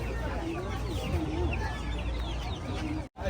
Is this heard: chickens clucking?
yes